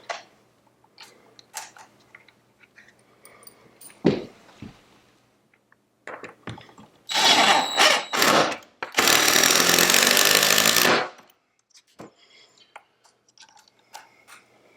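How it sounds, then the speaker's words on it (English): A power tool drives 4-inch screws through a door frame into the studs, two loud sustained whirring bursts of a few seconds each, surrounded by quieter clicks, taps and handling noises. "These are about 4-inch screws, so they're really reaching in there, getting into the studs."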